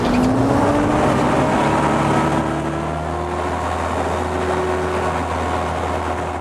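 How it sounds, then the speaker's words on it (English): A small engine drones steadily with a rising then held tone, loud and close, like a hovercraft running at speed. "These small hovercraft are very reliable and have a top speed of 50 miles per hour."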